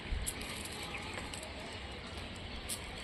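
A Giribaz pigeon cooing faintly at a distance, soft and low under steady background noise, with no talk.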